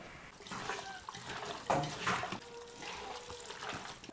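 Half a glass of water is poured into a pork roast mixture with turmeric, curry leaves and coconut oil, a soft close splashing pour with a few gurgles, faint and alone.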